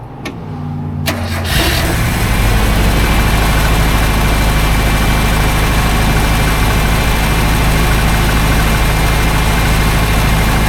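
An old, rare minitruck engine cranks briefly and catches, then settles into a loud, steady, close idle that runs without a break.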